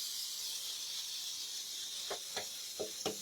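A steady, close hiss of an aerosol spray runs throughout, joined near the end by a few short clicks or taps.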